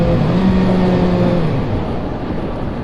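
Engine drone of a 2022 Kawasaki Ninja ZX6R 636 sport bike cruising at a steady high rev on the road, a fairly loud sustained hum with wind rush and no talking.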